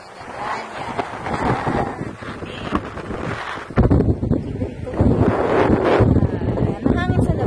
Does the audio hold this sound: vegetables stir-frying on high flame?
no